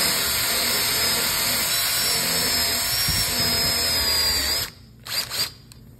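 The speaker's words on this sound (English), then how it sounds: "Then I take my little gun here, and then what I do is I kind of lap this head bolt into the head." An air gun spins an aluminum head bolt, lapping it into the cylinder head with a steady, loud, close whine that runs for more than four seconds. It then cuts off, and two short bursts follow.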